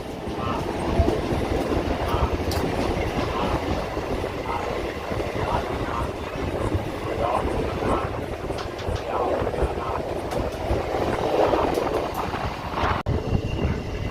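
A Chennai suburban local train pulls out of Guindy station at night with a loud, continuous rumble and rattling wheel clatter, and voices murmur faintly under it throughout.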